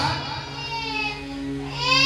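A human voice imitates a newborn baby's crying with a sustained, wavering wail that swells toward the end, heard alone without other speech.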